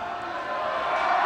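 Crowd noise at a high school boys basketball game swells steadily into a loud, sustained roar over about a second.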